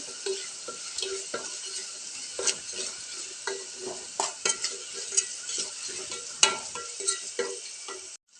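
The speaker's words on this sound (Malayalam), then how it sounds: "ചേർത്തതിന് ശേഷം നല്ല ഇളക്കി കൊടുക്കുക" Half a kilo of salted beef fries in a pan for Kozhikode-style beef fry while being stirred, a continuous bright sizzle broken by regular scraping strokes of a spoon, close and steady.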